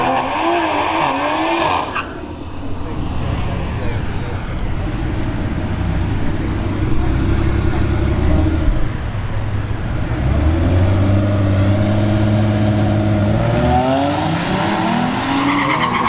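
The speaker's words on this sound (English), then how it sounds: "G70 takes off a little too early, and the Beamer is having issues." A Genesis G70 and a BMW 3 Series launch at a drag strip, with loud, close engines revving and rising in pitch, tire squeal and screeching, and a continuous roar that climbs and falls across the run.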